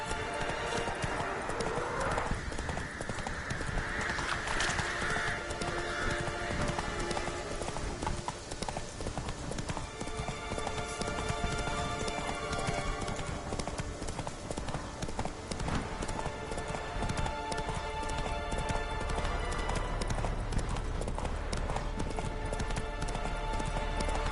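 Horse hooves gallop in The Witcher 3, a loud, continuous rapid clip-clop that runs throughout, with occasional game sounds layered over it.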